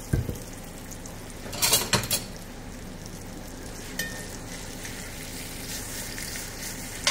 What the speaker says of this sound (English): we're going to go ahead and add our beef. And we're going to sear this on all sides.